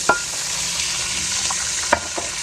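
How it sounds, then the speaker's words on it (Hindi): Onions and ginger-garlic paste frying in a pan as water is added, with a loud steady sizzle and a couple of sharp clinks of a spoon stirring. "अब हम थोड़ा सा पानी लगाएंगे"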